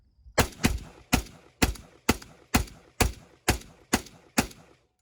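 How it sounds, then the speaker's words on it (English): A gun is test-fired with Tula hollow point ammunition: ten sharp, evenly spaced shots in quick succession, each cracking then dying away, with no talking between them. "So do a test fire here."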